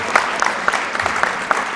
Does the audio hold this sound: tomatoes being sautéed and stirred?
no